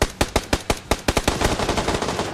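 Rapid automatic gunfire from the video game PUBG rattles in a steady burst of about a dozen loud, close shots, the later ones crowding together, with no talking.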